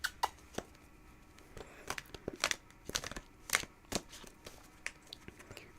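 Tarot cards shuffled by hand during a live reading, a run of quick papery riffles and soft crackling snaps close up, irregular bursts across the whole stretch with no talking.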